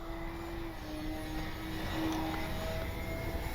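Distant, steady electric drone of a Durafly Tundra V3 radio-controlled bush plane flying at about half throttle outdoors, a faint sustained whine with slight pitch shifts and no talking.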